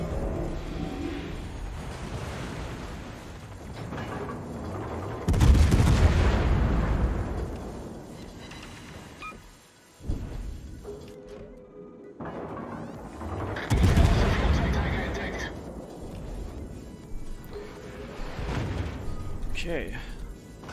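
Naval gunfire in World of Warships, the German cruiser Hindenburg, booms in heavy salvos around five and fourteen seconds, with rumbling blasts and battle noise between, while someone talks over much of it.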